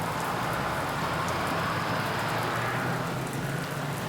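Rain beats steadily against bus windows as the engine hums underneath, a dense, even wash of sound that stays constant and close with no voices.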